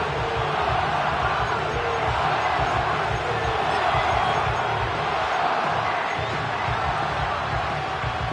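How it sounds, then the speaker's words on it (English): Football stadium crowd roaring and cheering late in the fourth quarter of a Cardinals game on third and long, a dense, steady wall of noise throughout. "This crowd turning up the decibel level."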